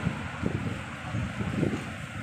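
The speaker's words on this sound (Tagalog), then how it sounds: "Ang ganda ng hangin." Wind gusts rumble against the microphone in uneven low-pitched surges on Sentosa, Singapore, with a soft airy hiss underneath and no talking.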